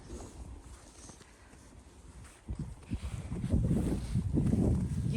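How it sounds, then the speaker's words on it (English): Wind gusting through a snowy garden in Houston, a soft breathy rush that starts faint and swells louder in the second half, buffeting the microphone. "You can't feel that wind? I feel the wind."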